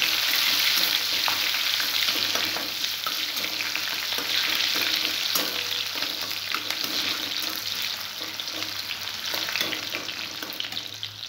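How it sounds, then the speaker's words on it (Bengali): Chopped onion and cumin seeds frying in hot oil in a kadai, giving a loud, continuous sizzle with occasional stirring scrapes and no talking. "তেল গরম হয়ে গেছে। দেখো একটা জিরে সম্বাদ দিয়ে দেবো, এবার কুচনো পেঁয়াজটা দিয়ে দেবো"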